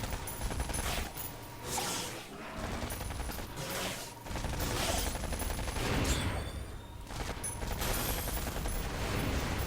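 Gunfire in Hellgate Global comes as sustained loud bursts with repeated rapid shots close by, set over a mechanical in-game din. There is no talking.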